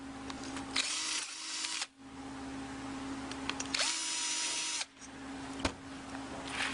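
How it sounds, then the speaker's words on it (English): A power drill runs in two sustained bursts with a pause between, drilling holes while fitting forward controls on a Honda Rebel 250 motorcycle, whirring close by over a steady background hum. "So go ahead and drill these two holes."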